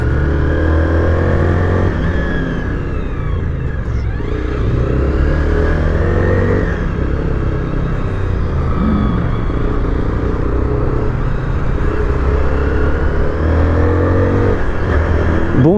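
A Zontes 310 R motorcycle engine revs and accelerates continuously close by, a steady loud drone with rising and falling pitch sweeps as the throttle is worked.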